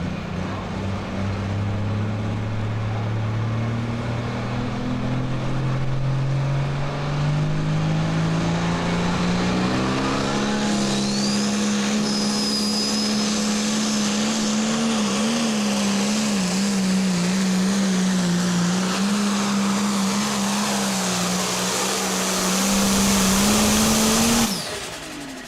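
A pulling tractor roars at full throttle during a Carroll County Fair pull on clay, its loud engine drone climbing and holding steady, then surging near the end.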